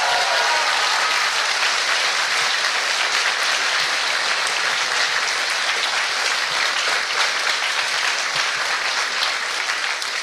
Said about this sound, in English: can we give a big round of applause, please?